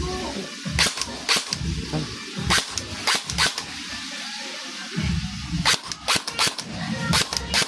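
Airsoft rifle firing Spit Fire tracer BBs outdoors, a series of sharp, close snapping shots in quick bursts and singles, with brief talk between them.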